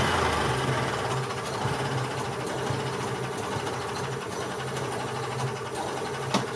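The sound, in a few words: 2001 EZGO TXT gas golf cart engine running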